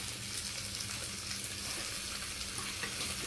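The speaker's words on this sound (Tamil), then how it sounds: "அது வரைக்கும் தக்காளி வதங்கணும் ஆமாம் கொஞ்சம் வதங்கணும்" Tomato sautéing in a pan for ridge gourd kootu, a steady close sizzle of frying with faint stirring scrapes underneath, continuous and without voices.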